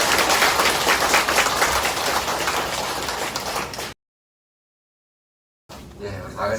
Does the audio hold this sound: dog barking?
no